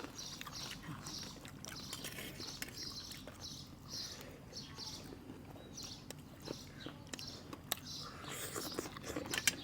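Close-up crunchy chewing of bamboo shoot curry with young puffball mushrooms: repeated crisp bites and moist crunches in a steady rhythm, alone without talk.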